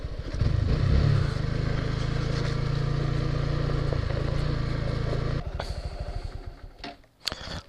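A Honda Grom motorcycle being ridden, its engine droning loud and steady for about five seconds before easing off into clattering, uneven engine sounds and bumps.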